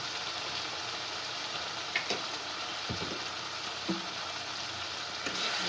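Spices such as turmeric, cumin powder and salt frying in a pan for a cauliflower dish, a soft continuous sizzle with occasional light stirring knocks, no voices.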